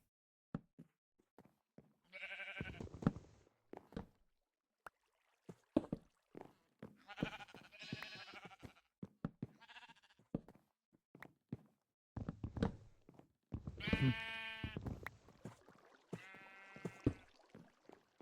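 Sheep in the Minecraft video game bleat repeatedly in short wavering calls, several in quick succession with pauses between, clear and close with light clicks in the gaps.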